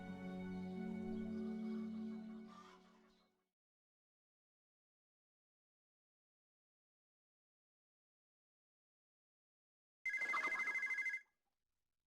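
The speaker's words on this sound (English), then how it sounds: "Yeah, it's me getting the phone." A telephone rings once in the Pippa Funnell Ranch Rescue video game, a short, bright electronic ring that stands alone after a stretch of silence.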